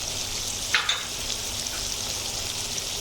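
Chopped onions and green chilies hitting hot oil in a pan, a steady hissing sizzle with a couple of brief sharp crackles near the start.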